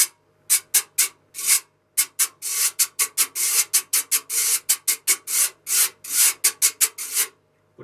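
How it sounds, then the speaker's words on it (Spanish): A güira, the metal scraped idiophone used in bachata and cumbia, is scraped in quick rhythmic strokes, a loud close run of raspy swishes in short bursts with brief pauses and no talking. "Por ejemplo, la güira, ¿sí?"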